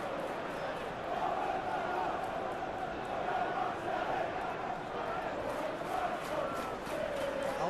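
A football stadium crowd at a Premier League match between Newcastle United and Chelsea keeps up a constant roar and murmur, rising slightly at moments, with a commentator talking over it.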